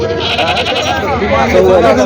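Goats bleat repeatedly at a busy Parbhani goat market, several animals calling close by over a dense crowd of voices and market chatter.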